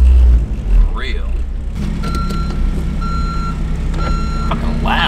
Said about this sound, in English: All these beeping and vacuums and whatever the fuck's going on.